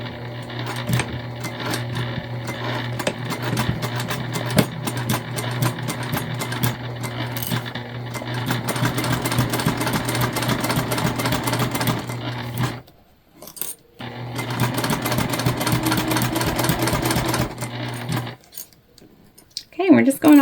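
A sewing machine stitches a quarter-inch seam on a placemat pouch in a long, loud, steady whir that stops briefly in the middle, resumes, then ends with some handling clatter.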